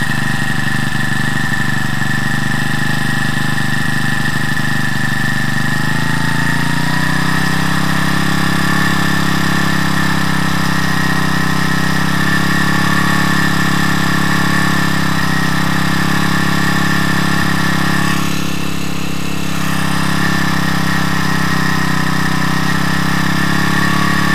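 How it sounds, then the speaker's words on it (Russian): A Champion T334FS four-stroke string trimmer engine runs at high revs, a loud, steady, buzzing drone with a sustained whine that holds nearly constant throughout, heard close and alone. "Вот такие самые высокие обороты."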